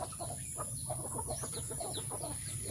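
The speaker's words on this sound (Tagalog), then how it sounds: "Yung isang inahin naman, may ano na siya, may sisiw." A mother hen with a few chicks clucks softly and repeatedly in short bursts, faint and close, over a steady high background hiss.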